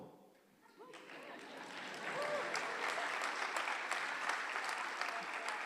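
An audience at a university convocation and new student orientation breaks into applause after a quiet start, the dense clapping swelling and holding steady for several seconds.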